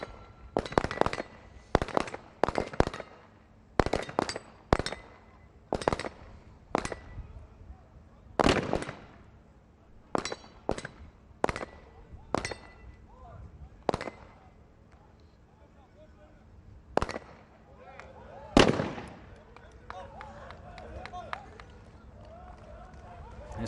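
Handgun shots crack across an outdoor pistol range at a SWAT team competition, loud sharp reports in uneven clusters with gaps, under faint background voices.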